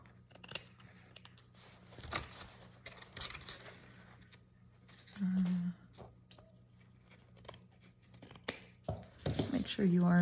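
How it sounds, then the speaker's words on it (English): Scissors snip and crunch through fabric for a junk journal cover in short irregular bursts, close up, with rustling handling noises and a person talking in between cuts. "let's cut this up and tidy up the edges a bit"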